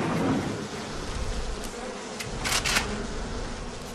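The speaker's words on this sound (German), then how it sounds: "Und irgendwelche Wespen." Wasps buzz in BioShock in a steady, dense drone that hums throughout, with a few short, brighter bursts of sound near the end and no talking.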